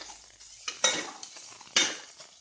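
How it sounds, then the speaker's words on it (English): Pounded garlic and chili are stirred and fried in a pan, a utensil scraping and clinking against the metal over a faint sizzle, close up, with two sharper scrapes standing out and no talking. "I will be adding the pounded garlic, then chili, mix well, fry for some time."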